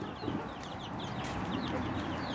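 Young chicks cluck and peep in a dense, continuous chorus while being fed grain, close and steady with no talking.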